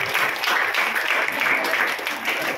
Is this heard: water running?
no